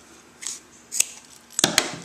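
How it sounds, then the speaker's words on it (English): Office scissors snipping paper loops from a pom-pom template, a few sharp crisp cuts spaced across a quiet moment, the last pair close together and loudest. "so I just have my office scissors"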